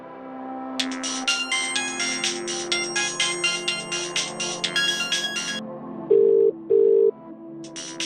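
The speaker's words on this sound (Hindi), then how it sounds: "अरे कहाँ बज रहा, कहाँ है यू फोन?" A phone ringtone plays a rapid, repeating chiming melody, followed by two long, loud electronic beeps; close and clear, with no talking.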